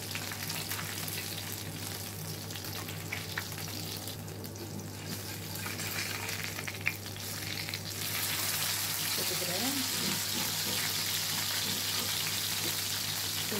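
Parrot fish pepper fry sizzling in hot oil in a pan: a steady, dense crackle that carries throughout, growing slightly louder and brighter in the second half, with no talking.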